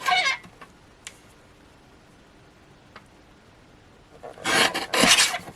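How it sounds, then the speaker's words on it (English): Scissors or a blade cutting a strip of craft card lengthways, heard as two bursts of close, dry rasping, a short one at the start and a longer one at the end, with only faint ticks in the quiet gap between. "when I cut this down to size lengthways"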